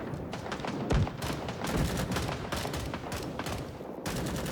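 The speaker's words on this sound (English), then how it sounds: "Enemy fire incoming!" Enemy gunfire in the Vietnam War video game Rising Storm 2, a steady barrage of rapid rifle and automatic shots cracking out in dense overlapping bursts, loud and close for the whole stretch with no talk.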